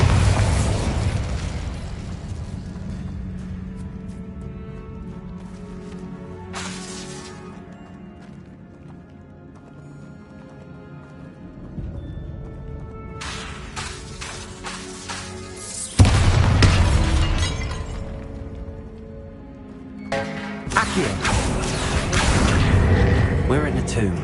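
A Bombarda blasting spell explodes in Hogwarts Legacy, landing as a sudden loud boom followed by a second burst a few seconds later, set against an eerie tomb ambience with a player talking.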